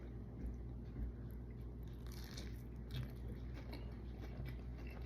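Crisp bites and steady chewing on crispy fried fish dipped in warm peanut Thai sauce, close and quiet, repeating through the moment with no talk.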